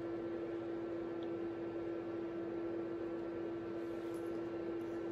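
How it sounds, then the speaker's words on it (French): A small 12-volt fan in a Traxxas E-Revo 1/10 RC truck hums steadily with a constant tonal whine and a soft airy hiss, close and unchanging, no voices. "Petit ventilateur."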